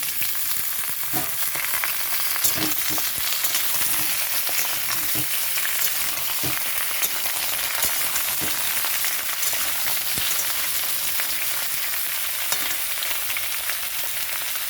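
Chopped bottle gourd added to fried potatoes in a hot pan, hissing with a constant bright sizzle of oil, broken by occasional clinks and scrapes of a spatula stirring.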